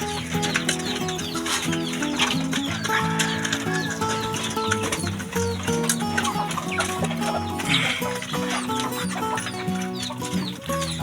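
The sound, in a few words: hungry Shamo chickens at feeding time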